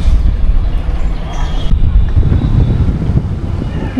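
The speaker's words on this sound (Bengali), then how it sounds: "ঠান্ডা বাতাস ছাড়ছে" Strong, cold wind before rain buffets the microphone with a deep, continuous rumble and gusty roar, filling the whole clip.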